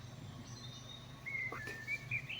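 Outdoors, a few faint, high birdsong notes and short whistles drift over a low background hum, distant and sparse, with no one talking.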